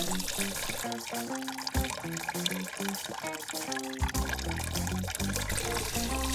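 Brine splashes and trickles over vegetables being prepared for a fermented hot sauce; a steady close pour of liquid with gurgling, bubbly tones, fairly quiet, no one speaking.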